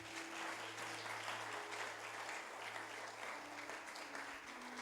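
A church congregation applauding during a French-language sermon, steady sustained clapping from a crowd heard faintly at a distance, with a low hum underneath.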